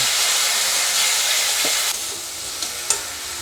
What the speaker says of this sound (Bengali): এখন আমি মশলাটাকে খুব ভালো করে সামান্য একটু জল দিয়ে কষিয়ে নেব